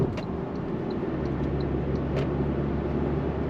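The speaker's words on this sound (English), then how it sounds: "Let's go on throttle. On throttle, here we go. 8-speed drops down, we're off." A 2025 Toyota Tacoma SR5 with a turbocharged 4-cylinder engine pulls away under throttle while its 8-speed automatic downshifts, giving a steady, close cabin rumble with a broad low drone and no talking.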